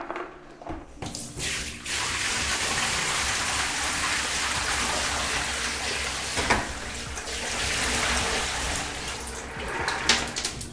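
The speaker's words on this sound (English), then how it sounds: "Let's tip out the water that we washed the media in." Wash water from cleaning the media of a Fluval FX6 canister aquarium filter is tipped out in a bathroom, making a continuous splashing pour that runs for about ten seconds before trailing off.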